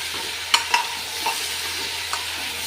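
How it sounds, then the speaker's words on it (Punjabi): Spoon stirring pumpkin sabzi in a pan, a few soft scraping clicks over a low steady sizzle, close and quiet with no talk. "ਸਾਰਾ ਪੇਠਾ ਤੋਂ ਪਾ ਦਾਂਗੇ ਚੰਗੀ ਤਰ੍ਹਾਂ ਮਿਕਸ ਕਰ ਦਾਂਗੇ"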